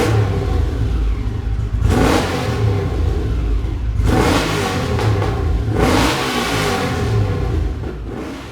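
A car's aftermarket exhaust revving hard in repeated surges, three loud climbing blips rising over a deep steady idle rumble, close and with no talking.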